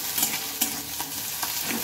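Green chillies frying in a pan with potol peel, a close crackling sizzle broken by a few sharp stirring scrapes, with no one talking.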